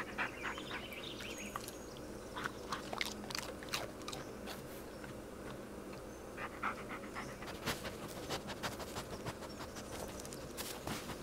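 A dog chews and crunches on a snack up close, with wet bites and panting breaths in a steady rhythm, with occasional scraping noises and no talk.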